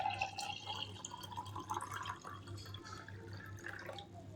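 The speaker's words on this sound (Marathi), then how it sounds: "पाणी टाकून घ्यायचं असं." Water is poured into small containers to make floating water lamps, giving faint trickling and dripping sounds over a low steady hum.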